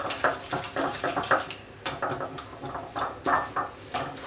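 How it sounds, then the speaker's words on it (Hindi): Eggs being beaten into cake rusk batter in a bowl, a steady run of quick, light clinking and tapping strokes at close range, repeating in an even rhythm. "अब इस अंडे को अच्छी तरह से मिक्स करेंगे"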